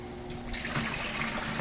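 Water from a Rio 2500 pump runs steadily through a hose into a container while a saltwater aquarium is filled, giving a faint, even, continuous rush with a low hum beneath it.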